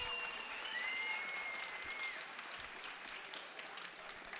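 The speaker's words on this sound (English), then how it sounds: "let's get a nice round of applause out of here for both of these fighters." Crowd applause for two fighters after a three-round combat sports bout fills the space, a dense patter of clapping that stays fairly even, with a faint tone sliding through early on.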